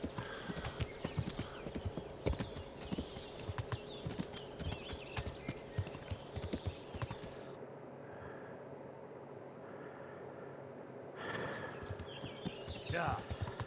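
Rhythmic clip-clop of horse hooves at a steady trot in the video game Kingdom Come: Deliverance on PS5, with a brief whinny near the end and a low ambient hum beneath.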